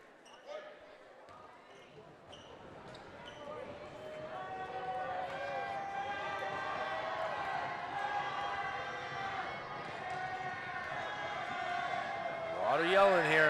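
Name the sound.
crowd yelling at a boys' basketball game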